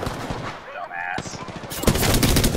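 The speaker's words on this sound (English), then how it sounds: "I'm getting shot at" Bursts of automatic gunfire from the battle royale game Apex Legends, loud and rapid, with a denser volley near the end, under brief player voices.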